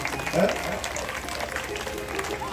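Audience clapping at a Ram Katha religious gathering at Dalababa Dham, a steady dense patter of many hands that fills the room at moderate loudness, with a crowd murmur and voice mixed in.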